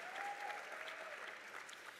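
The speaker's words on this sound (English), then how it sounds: "So give them a round of applause." Steady, distant audience applause at a closing conference session, a dense even wash of clapping lasting about two seconds.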